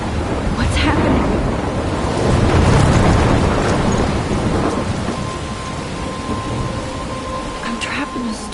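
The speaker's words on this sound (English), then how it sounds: "I'm trapped in a storm?" A thunderstorm in Life is Strange: heavy, constant rain hiss with a deep rolling thunder swell near the middle and sharp crackling strikes at the start and end, loud and enveloping.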